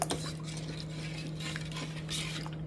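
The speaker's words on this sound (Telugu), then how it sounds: "కారం కారం వేసాను అండ్ ఒకసారి కలిపేసుకొని" A spoon scrapes and clinks in a pot while chili powder is stirred into pumpkin pulusu curry, soft repeated metallic taps and stirring swishes over a steady background hum, with no talk.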